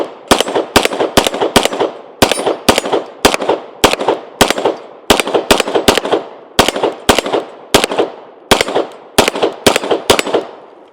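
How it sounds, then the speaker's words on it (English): Rapid pistol shots from a Kimber 2K11 Target handgun, about fifteen sharp, loud reports fired in quick bursts and pairs over eleven seconds, each with a brief ringing decay and no talking between. "So let's go ahead and take our few shots with it."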